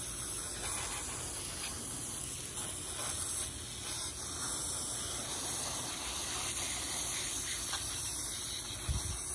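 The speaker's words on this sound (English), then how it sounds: "We're just gonna spray these out to kind of get some of the gook out so it'll filter better." A steady, continuous hiss of a hose spraying pool filter cartridges, broad and unbroken throughout, with a brief low thump near the end.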